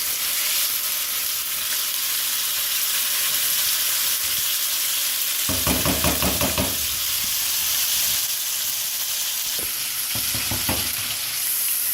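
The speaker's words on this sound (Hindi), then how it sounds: "चिकन को इसमें हम फ्राई करेंगे, चिकन पीसेस को 5-6 मिनट तक इनको फ्राई करेंगे" Chicken pieces fry in a pan for a pasta with pizza sauce, hissing in a steady loud sizzle, with two bouts of clattering stirring partway through.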